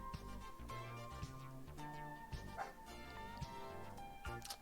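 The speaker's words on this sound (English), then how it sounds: "excuse my dog, she's barking." A pet dog barking and yipping indoors in short scattered bursts, faint and partly masked by steady background music.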